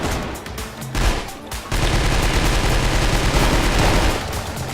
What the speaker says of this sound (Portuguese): eu tô ouvindo muito tiro, meu Deus